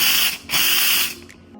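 An ECM Mechanika Slim espresso machine's steam wand hisses loudly in two strong bursts with a short gap between, then fades to a quieter sputter; no speech.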